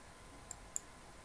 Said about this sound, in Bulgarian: Ляв бутон на мишката натискаме.